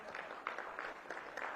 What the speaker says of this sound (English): clap it up for this young man